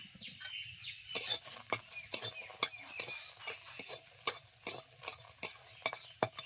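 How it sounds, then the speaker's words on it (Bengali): Garlic cloves and green chillies are stirred in a wok, sharp rhythmic scrapes of a spatula against the metal repeating about twice a second over a faint low sizzle, close and fairly quiet. "কাঁচা লঙ্কা দেওয়ার পর আমি 2 মিনিট নেড়ে চেড়ে নিয়েছি"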